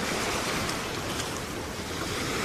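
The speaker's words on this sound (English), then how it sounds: "There's white caps over there. That means the waves are bigger over there." Ocean waves breaking on a beach at night, a constant broad wash of surf with some wind noise on the microphone and no talking.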